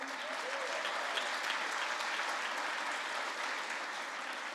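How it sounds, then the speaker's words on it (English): Steady audience applause at a graduation ceremony fills the whole stretch, a dense even patter of many hands clapping with no pauses. "So can I hear a clap for them, please?"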